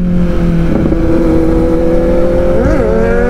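Kawasaki Z900 motorcycles racing on a road, a loud continuous engine roar with rising revs and a sharp pitch swing near the end as a bike accelerates hard.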